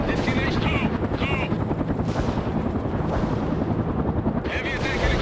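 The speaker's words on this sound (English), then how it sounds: "Heavy attack helicopter is preparing attack." Heavy attack helicopter in the war strategy game World in Conflict, a loud continuous rotor and engine roar with bursts of gunfire, while radio-style voice lines play over it throughout.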